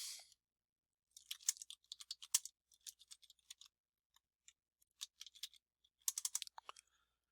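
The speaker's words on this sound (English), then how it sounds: "I'm going to go ahead and type something here" Typing on a computer keyboard, close and quiet, in short bursts of rapid clicking keystrokes separated by pauses, no talk.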